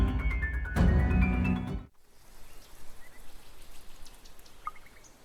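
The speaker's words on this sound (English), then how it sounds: "A dreary downpour starts off the Monday." A dreary Monday downpour sets in after music cuts out: soft, steady rain with scattered drips, fairly faint and alone.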